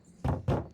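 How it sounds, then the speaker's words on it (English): Two firm knocks on a door in Detroit: Become Human, close and evenly spaced a quarter second apart, each a dull wooden thud against quiet background. "Knock knock."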